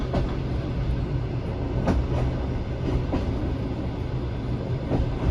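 A passenger train from Almaty to Pavlodar in Kazakhstan rumbles steadily along the rails with faint rhythmic clacks, a continuous loud roar throughout.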